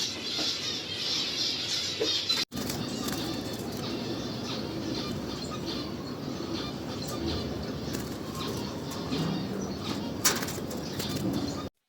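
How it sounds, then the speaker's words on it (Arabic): A wild Iraqi bulbul calls over a dense, steady wash of outdoor background noise, with a brief cut near the start and faint cooing and chirping that stays mostly buried in the ambience. "بلبل عراقي وحشي"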